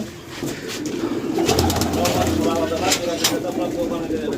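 Teddy pigeons in a loft give soft, low, repeated coos amid a busy murmur of many birds, with occasional sharper calls and a faint voice in the background.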